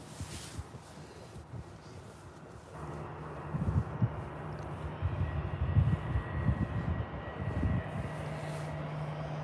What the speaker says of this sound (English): EasyJet heading out now